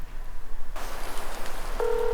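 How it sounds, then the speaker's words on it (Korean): A steady single telephone dialing tone holds briefly over a hissy background after a sudden shift in noise. "연구실 앞에 적힌 연락처로 전화 통화를 시도해봅니다."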